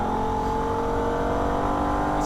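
A Holden VF Ute's engine revs hard on the Nürburgring circuit, a loud, steady, close-up drone with strong harmonics and no clearly audible shift break, and no talking.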